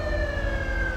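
Police car siren from the game GTA V, a steady electronic wail holding a high sustained tone that drifts slowly downward, loud and continuous for the full moment with a low rumbling engine bed underneath.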